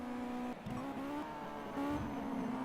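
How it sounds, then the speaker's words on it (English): An engine in the Simraceway racing game revs and steps down through gears quickly, with short pitch drops and brief squeals, steady and moderately loud throughout. "Shadow Bounty really attacking those downshifts. He's going all out trying to make sure he goes down gears as quick as possible."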